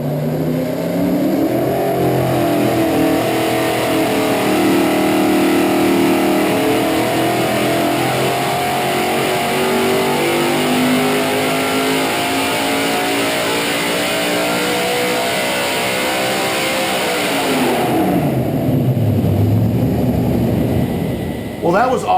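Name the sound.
car engine revving during a dyno pull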